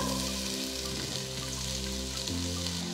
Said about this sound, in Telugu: ఇప్పుడు ఈ టైంలో నేను 2 మీడియం సైజ్ ఉల్లిపాయలని సన్నగా తరిగి పెట్టుకుని అది వేస్తున్నా.